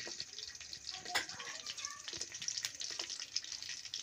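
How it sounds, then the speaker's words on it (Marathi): Green chillies dropped into hot oil for the tempering of a Maharashtrian moong dal varan, giving a steady, close frying hiss with a few sharper crackles. "मिरच्या टाकल्यानंतर आता फोडणी द्यायचं काम चालू आहे म्हणजे आपल्या वरणासाठी"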